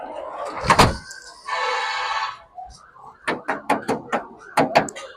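A door on a 2014 Suzuki Bolan van is handled: a heavy thud and a sliding scrape early on, followed by a run of sharp rattling knocks and clunks near the end, with someone talking over part of it.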